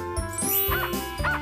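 A dog barking: two or three short, sharp yips close by, with a faint jingling in between.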